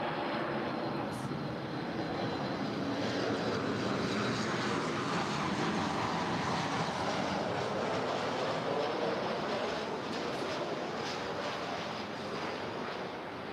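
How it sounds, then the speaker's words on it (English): A Southwest Airlines Boeing 737 MAX 8, three years old, arrives at LAX from Las Vegas, its jet engine roar a broad, steady wash held at a constant loud level for the whole stretch. "that was Southwest Airlines Flight 2619 coming in from Las Vegas. It's a 3-year-old Boeing 737 MAX 8"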